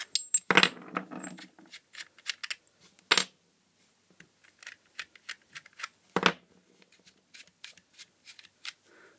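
Metal electrodes are unscrewed and pulled off a small water tester unit, producing scattered sharp clicks, taps and light metallic rattles of aluminium parts on screw threads, close by and intermittent, with quiet gaps between handling noises.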